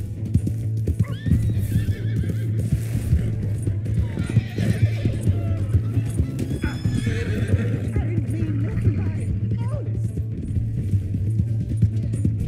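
A horse in Red Dead Redemption 2 gallops with steady, close clip-clop hoofbeats and neighs sharply several times, over a constant low hum, with game characters talking in between.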